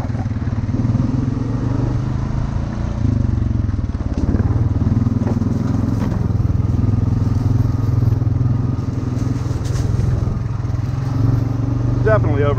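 An ATV engine drones steadily while riding along an overgrown, grassy trail, loud and close throughout, with rattles and brush noise mixed in and people talking over it.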